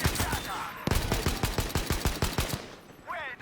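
Automatic weapon fire in the video game Battlefield V: a rapid, evenly spaced burst of about a dozen loud shots, then a short tail of game effects at the end.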